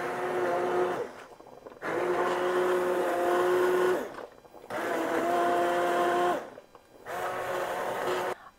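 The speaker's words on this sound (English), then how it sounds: "So I'm going to take my immersion blender and very carefully blend this all up." An immersion blender whirs through tomato soup in four bursts of roughly two seconds each, with short pauses between, the motor pitch dipping slightly as it works through the soup.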